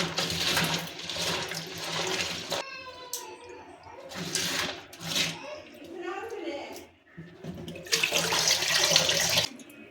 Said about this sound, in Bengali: ভালো করে ঘুরিয়ে ঘুরিয়ে ধুয়ে নেব আমরা